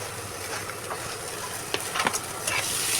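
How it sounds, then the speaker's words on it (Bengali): Chopped onions and pieces of meat frying in a little oil, giving a steady close sizzle with a few sharper crackles and stirring scrapes toward the end. "তো পেঁয়াজ কুচিটা দিয়ে দিলাম সবার প্রথমে তারপর দিয়ে দিব এক এক করে সব মাংসগুলো দিয়ে দিব"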